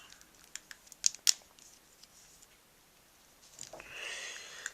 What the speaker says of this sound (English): you flip around these panels here, move the arms out like so, then fold out these flame parts